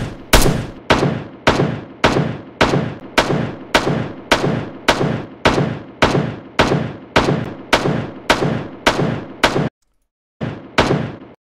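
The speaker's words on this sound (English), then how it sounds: "And the HMG distance sounds like this." Heavy machine gun sound effect, filtered with EQ, as a long, evenly spaced run of loud, sharp single shots at roughly one per second, then a short pause and one more shot.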